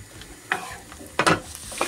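Green asparagus sizzles in fat in a frying pan, a soft steady crackle with a few louder stirring or scraping bursts, heard close with no talking.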